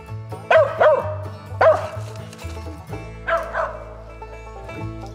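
Hunting dog barking and yipping at a squirrel up a tree in the woods, several close, loud barks in uneven bursts with whining between them.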